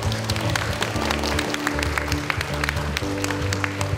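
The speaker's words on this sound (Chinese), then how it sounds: "大家给他一个热烈的掌声跟尖叫声" An audience at a school ceremony opening a high school curriculum fair claps steadily in a dense, continuous wash of applause, with music or amplified sound playing underneath throughout.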